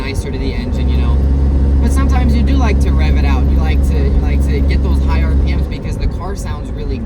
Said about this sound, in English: sometimes you do like to rev it out